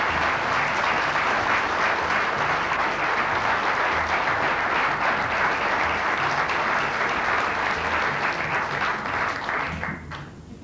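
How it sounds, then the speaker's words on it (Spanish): Audience applause at a tribute event for Osvaldo Bayer, a large crowd clapping loudly and continuously, densely packed claps holding steady before tapering off at the end. "les pedimos a todos ustedes un fuerte aplauso"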